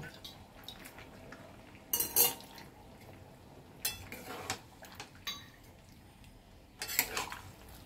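Spoon scraping and clinking against a pot while vegetable curry with ginger paste and fried bitter gourd is stirred, with a few separate bursts of clatter over a quiet kitchen background.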